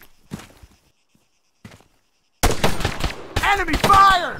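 Video game gunfire: a few isolated shots, then bursts of rapid automatic fire at close range, mixed with shouted voices during a battle near a tower.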